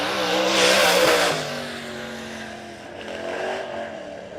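Race cars roar past on the Monett Motor Speedway oval during heat races, a loud engine sweep building and fading, followed by a second quieter pass a few seconds later.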